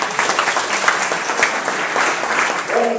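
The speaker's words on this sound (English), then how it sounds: "Give them a round of applause, please." Steady, dense applause from an audience at a breakfast event, loud and continuous throughout.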